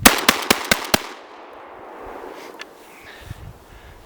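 Dominion Arms Cougar shotgun, a Chinese-made Remington 1100 clone, fired in five quick sharp outdoor blasts close up, followed by a fading echo and quiet ambience.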